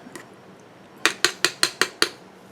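A spoon clinks against a pot while shea butter and beeswax melt inside, six sharp evenly spaced metallic taps close by, preceded by a faint scrape.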